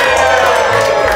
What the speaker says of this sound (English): Round of applause for Dave